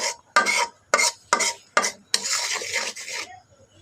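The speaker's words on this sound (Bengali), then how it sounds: "এই যে মশলাটা কতক্ষণ কষাইলাম" A utensil stirs and scrapes through spice paste frying in a pan for fish head and potato curry. The strokes come in rhythmic bursts, each with a sizzle, then run into a longer continuous scrape, close and fairly loud, with no talking.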